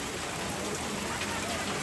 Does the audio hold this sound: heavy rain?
yes